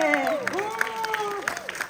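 An audience claps at a singer's debut album signing concert at a Hong Kong hi-fi show, a steady patter of applause running beneath voices speaking over it.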